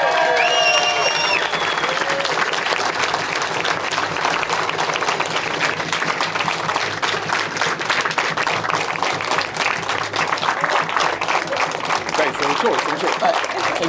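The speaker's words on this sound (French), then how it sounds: "qu'on fasse vraiment un tonnerre d'applaudissements pour nos 4 athlètes" Sustained loud applause from a large crowd for four athletes at a brunch and Q&A event, steady clapping throughout with a few scattered cheers and a voice briefly at the start.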